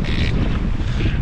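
Strong wind buffets a sailboat out at sea on a solo ocean passage, a loud continuous roar of gusts and rushing water with no voices.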